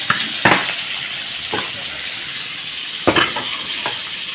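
Ganges giant freshwater prawns frying in hot oil in a pan, a steady close sizzling hiss broken by a few sharp clinks and scrapes of stirring.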